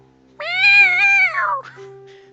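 A single long, clear cat meow from the video game Kitty Love, loud and close, gliding down in pitch at the end over faint steady background tones.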